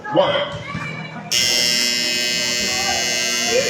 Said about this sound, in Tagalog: That's the buzzer. The end of the final quarter.